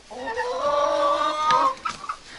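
A bare-necked hen clucks loudly and repeatedly right after laying an egg in a winter backyard coop, a close, rising series of squawking calls that breaks into shorter clucks near the end.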